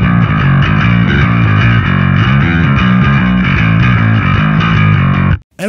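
Bass guitar played through a Kemper amp profile called Kohle Super Bass, a loud, thick, driven tone with steady rhythmic notes throughout, stopping abruptly near the end.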